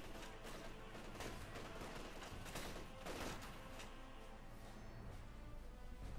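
Dense, continuous battlefield gunfire from the real-time strategy game Company of Heroes 2, with a machine gun firing among overlapping volleys, steady and loud throughout with no talking.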